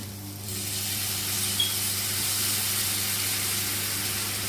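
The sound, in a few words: hot water poured into frying chicken curry masala, sizzling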